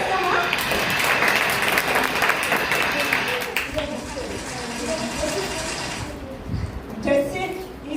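Audience clapping at a church children's Vacation Bible School program, a steady wash of applause that fades and then swells briefly again near the end, with voices murmuring underneath.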